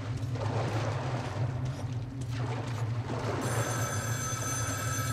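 A telephone rings steadily in a dark, rumbling underground setting in Metro Last Light, its bell tone clear and continuous over a low mechanical drone.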